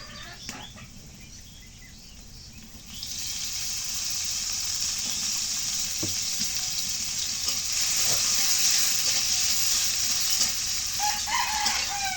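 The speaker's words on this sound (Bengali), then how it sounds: "এখন তেল দিয়ে দিই।" Oil poured into a hot pan (karai) sizzles up into a loud, steady hiss that swells after a quieter start and holds close throughout, with no talking.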